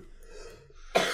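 A single sharp cough bursts out at the end after a stretch of quiet, faint background noise.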